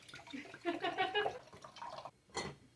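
Chardonnay white wine poured into a glass, a close, gurgling trickle in a couple of short bursts with a brief pause between, fairly quiet.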